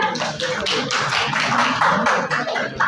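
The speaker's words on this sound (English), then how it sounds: "Clap for her." A classroom of school students clapping for a classmate during a lesson on fundamental rights, giving dense, loud, continuous applause from many hands close by, with faint voices underneath.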